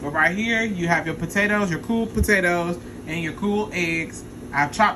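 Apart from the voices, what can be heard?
No everyday noise stands out behind the speech.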